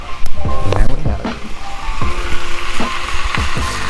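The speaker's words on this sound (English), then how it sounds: "So, chicken's frying." Chicken fries in a pan, crackling and sizzling steadily with scattered pops and scraping, while someone talks over the cooking.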